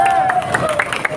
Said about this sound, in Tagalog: ating bigyan ng inspiring na palakpak ang